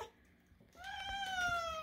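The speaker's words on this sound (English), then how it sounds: "Her meow's coming together." A cat gives a single drawn-out meow that rises and then slowly falls, heard close and clear after a moment of near silence.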